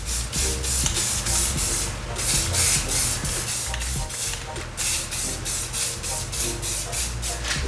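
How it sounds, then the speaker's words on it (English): An aerosol spray paint can hisses in a run of short, rhythmic bursts, each blast close and steady with brief gaps between. "When you're spraying that way, kind of angle it."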